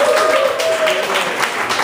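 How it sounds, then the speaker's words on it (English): Audience applause for Kona Brewing Company at an event about a new kind of corporation in Hawaii, a short burst of dense clapping with a few whistles or cheers mixed in. "we should give a nice round of applause to Kona Brewing Company"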